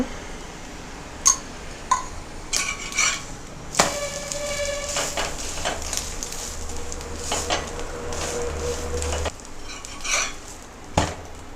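Egg roll cooking in ghee on a pan, with a steady low sizzle under clinks and scrapes of a utensil against cookware and a few sharp taps, then quieter scraping near the end.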